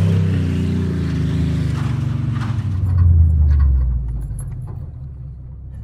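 A rusty Chevrolet Silverado pickup with its roof cut off accelerates hard on a hot lap, its engine roaring loud and close with a rising drone and heavy wind rush, then easing off, with no voices.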